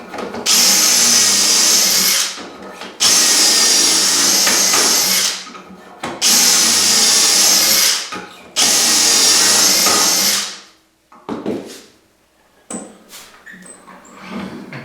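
Four long bursts of a loud, close power drill whining as it bores dowel holes in wood using a Dowelmax jig, each lasting about two seconds with short pauses between, then quieter clatter.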